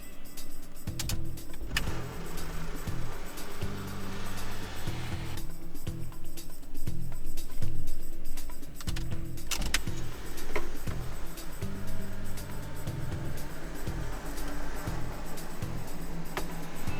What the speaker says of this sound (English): And now when I open the sunroof,